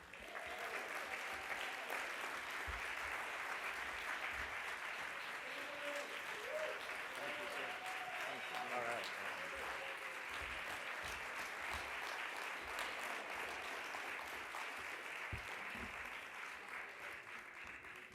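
An audience at the ACSA Every Student Succeeding Awards welcoming Willie Brown Jr. with steady, sustained applause that fills the whole stretch, with faint voices underneath.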